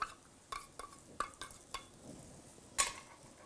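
Glutinous rice with dried shrimp is stirred in a pan, giving a series of distinct scraping and clinking strokes of a utensil against the metal at an irregular pace over a faint sizzle.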